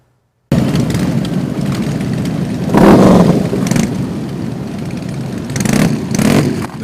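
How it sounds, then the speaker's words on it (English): Motorcycles at a charity rally parade outside the Roscoe VFW, engines rumbling loudly nearby after a moment of silence, with several bikes swelling and roaring past in bursts. "The 6th annual Jamie Cox Motorcycle Rally kicked off with a roaring start through a parade of flags and supporters at the Roscoe VFW"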